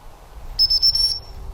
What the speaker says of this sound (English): I would only be blowing the whistle initially when that puppy moves towards me